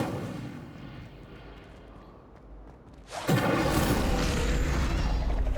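A burst of fire from the Incendio spell in Hogwarts Legacy, with a low rumbling game background that erupts partway through into a loud, sustained roaring whoosh.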